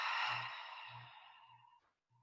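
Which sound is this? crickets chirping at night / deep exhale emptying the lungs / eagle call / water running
deep exhale emptying the lungs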